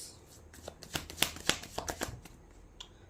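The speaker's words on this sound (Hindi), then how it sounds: "ओके, फिर से शफल करते हैं।" Tarot cards are shuffled by hand in a run of quick, crisp riffling flicks and slaps, close and fairly quiet, with no talking over them.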